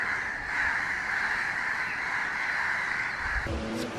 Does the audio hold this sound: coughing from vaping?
no